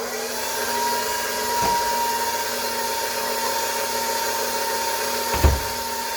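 An electric mixer whips cream for a homemade chocolate cream pie, giving a steady, loud motor whir throughout, with two brief knocks against the bowl. No one speaks.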